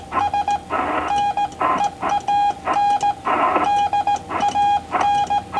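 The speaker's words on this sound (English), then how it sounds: "Picking out weak stations can be easier on CW or Morse code." Morse code CW tones from an amateur radio station beep in an irregular stream of short and long pulses, steady in pitch and fairly loud over a hissing band-noise background.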